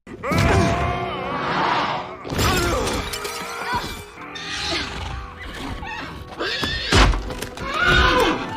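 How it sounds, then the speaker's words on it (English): Loud, repeated whinnies and neighs of the winged horse Pegasus from the animated film Hercules, mixed with crashing and thudding sounds, busy and close throughout. "Meg literally hears Pegasus, and that's how she found him."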